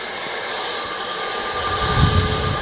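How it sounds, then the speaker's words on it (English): An EasyJet Airbus A320neo jet airliner at Manchester Airport gives off a steady, loud engine roar with a high whine, swelling slightly toward the end, close by and with no talking. "It's beautiful EasyJet Neo"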